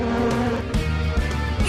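Cartoon bees buzz around their hive, a steady, close insect drone with a few brief louder swells, with no talking over it.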